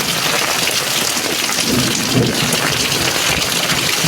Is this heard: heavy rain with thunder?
yes